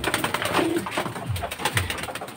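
Racing pigeon cooing close by, several low soft coos spread across a few seconds against a steady background of other bird noise, with no talking.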